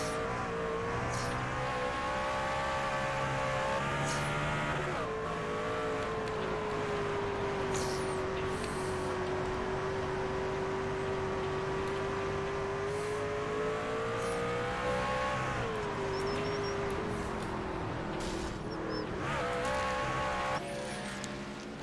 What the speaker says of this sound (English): As you heard there, Matt had to downshift a little bit.